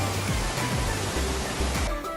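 Sarang Walet waterfall near Mount Rinjani pours in a constant, dense roar of falling water, loud and close, with faint low thumps underneath.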